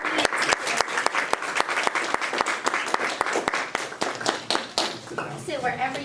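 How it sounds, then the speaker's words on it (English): An audience applauds a student panel at a summer math program, with a close, sharp, rhythmic clapping pattern over a looser crowd clap, tapering off as voices begin talking near the end. "let's give a round of applause for coming"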